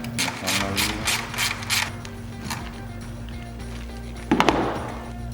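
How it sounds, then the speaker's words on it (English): A ratchet with a 10mm socket turns a bolt on a Jeep Wrangler JL or Gladiator JT during a switch bank install. A quick run of close ratcheting clicks is followed by quieter handling and a single sharp clunk. "We're going to use a 10mm socket to remove this bolt"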